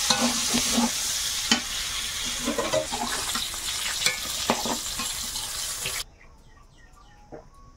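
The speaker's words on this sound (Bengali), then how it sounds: "আমার এদিকে পটল আর আলুটা একদম লাল লাল করে ভাজা হয়ে গেছে" Pointed gourd and potatoes fry in a pan with loud, close sizzling and scraping stirs for about six seconds before the sound drops away to near quiet.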